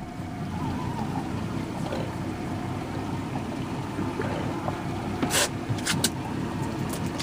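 Engine of a shark fishing boat being put in gear on open water, giving a steady low rumble and wash with a few brief sharp knocks near the end.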